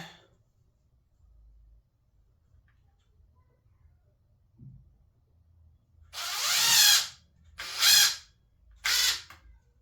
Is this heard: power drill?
yes